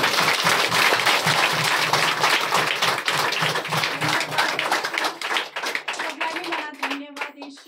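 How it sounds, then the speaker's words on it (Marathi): A church congregation clapping loudly in praise during a Marathi sermon, a dense, fast burst of hands that thins into scattered claps near the end, with a voice faintly under it. "नीट जोराने टाळी वाजा प्रभू येशूसाठी"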